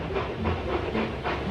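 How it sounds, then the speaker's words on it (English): Steam locomotives from Thomas & Friends puffing into a railway yard, a steady hissing chuff with faint rhythmic pulses, fairly loud and close, no voices. "James and Edward puffed into the yard."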